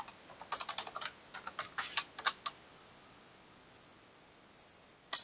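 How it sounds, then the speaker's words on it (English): A password is typed on a computer keyboard in quick, quiet clusters of key clicks over a low hiss, followed by a pause and then one final keystroke. "So let's do that and type it in a second time."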